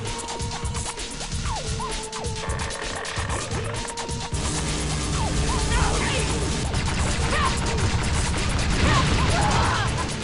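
Rapid gunfire and crashing impacts from weapons in the video game Unreal Tournament 2004, with dense repeated shots and clattering over continuous game noise and sound effects.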